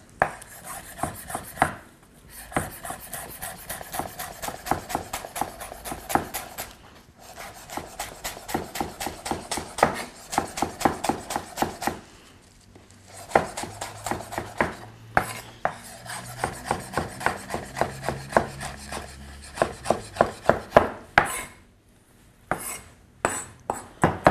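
A knife chops vegetables for upma on a cutting board, in steady rapid runs of close, crisp taps broken by short pauses, with no talking.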